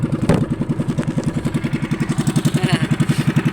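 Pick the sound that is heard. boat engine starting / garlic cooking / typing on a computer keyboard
boat engine starting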